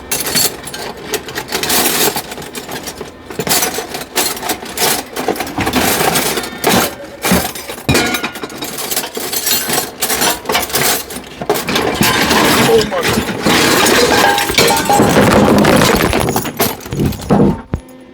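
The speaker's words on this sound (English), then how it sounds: "that's the sound of me pulling anything off of my shelf" Thrift-store glass and metal items clinking, clattering and jangling as they are pulled off a shelf, a busy, continuous run of close rattles and chinks with no talk.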